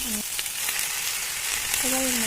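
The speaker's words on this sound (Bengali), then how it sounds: "তেল গরম হওয়ার সাথে সাথে আমি শুকনো লঙ্কা, তেজপাতা ফোড়ন দিয়ে তার মধ্যে এবার একে একে মশলাগুলো দিয়ে দিচ্ছি" Dried red chillies, bay leaf and spices sizzling in hot oil, a close, constant bright crackle with a couple of short tonal squeaks from the pan, and no voices.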